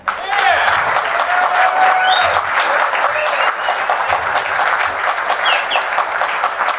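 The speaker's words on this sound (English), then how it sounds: "please join me in, again, extending a well-deserved round of applause to Mr. Dave" An outdoor community gathering at Jaybirds Day gives a round of applause for an honoree, a broad, steady crowd clapping that swells at the start and holds, with faint bird calls and scattered voices mixed in.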